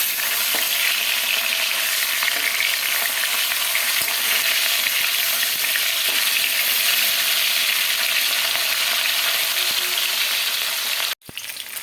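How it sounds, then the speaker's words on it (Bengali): Katla fish sizzles steadily in hot oil, a loud, constant crackling hiss heard up close. A sharp clank of a utensil near the end briefly breaks the frying, and no one speaks. "মাছটা ভাজা হয়ে গেছে তুলে নেবো"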